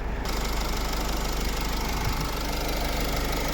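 A 2010 Nissan Qashqai 2.0 dCi diesel engine idles steadily nearby, a loud continuous rumble with a fast, even knocking rhythm and no voices.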